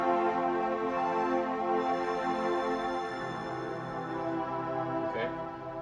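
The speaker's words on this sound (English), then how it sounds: "strings sound like this." Sustained strings voice from a Yamaha P121 digital piano playing a held chord, a smooth, continuous ensemble tone at steady moderate loudness with no talking.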